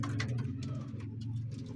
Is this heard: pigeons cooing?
yes